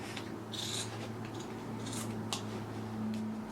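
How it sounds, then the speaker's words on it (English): Scissors snip through denim jeans below a hem line, a few crisp cutting strokes spaced irregularly over a quiet room with a low steady hum underneath. "you're going to take scissors and you're going to cut just below the zigzag line."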